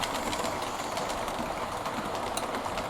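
A Hornby Black 5 model steam locomotive running on track, a steady close whirring motor hum with fine rapid clicking from the wheels, continuous and even throughout.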